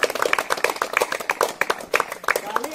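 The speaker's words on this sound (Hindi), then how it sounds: "जोरदार ताली बजाइए" Audience at a rural talent-stage event clapping in brisk, uneven rhythm, many hands close by with individual claps standing out, sustained throughout.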